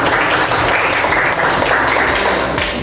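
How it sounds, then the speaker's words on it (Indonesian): A classroom full of people claps loudly and continuously, a dense wash of applause with no pauses. "tepuk tangan untuk kita semua"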